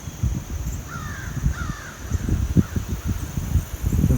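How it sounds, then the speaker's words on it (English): A few crows caw at a distance over steady wind and rustling near the center of former Hurricane Helene in southwest Virginia, their harsh calls repeating in short pairs. "Those crows are enjoying it."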